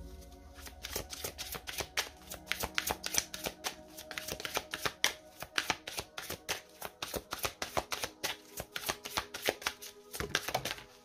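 Tarot cards shuffled by hand to draw an advice card, a close, soft, rapid riffling with quick flicking bursts in a steady run and no talking over it.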